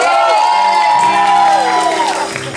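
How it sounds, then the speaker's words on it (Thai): An audience cheers and applauds for Pan at a Thai charity talk show, a steady roar of whoops and shouting voices running throughout at close, loud level. "พี่ขอเสียงปรบมือกับพี่แพนครับ"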